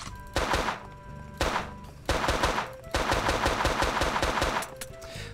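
Gunfire in the cowboy-themed video game Peekaboo: sharp bursts of rapid shots in several volleys with brief pauses between, loud and close.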